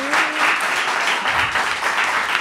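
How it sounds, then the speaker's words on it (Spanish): A studio audience breaks into dense, steady applause for a guest on a TV show, loud and continuous for a couple of seconds. "por favor, un aplauso"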